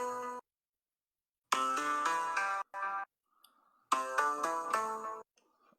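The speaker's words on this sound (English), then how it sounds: "Are these old school Nokia ringtones?" Old-school Nokia phone ringtones play in loud bursts of bright electronic melody, three separate runs with short gaps and a faint beep between, heard during a live tabletop role-playing game session.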